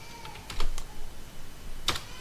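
A few keys tapped on a computer keyboard while a title is typed into a Microsoft Word document, heard as sparse, separate clicks close to the microphone with no talking.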